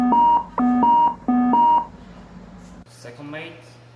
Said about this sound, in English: go and check this alarm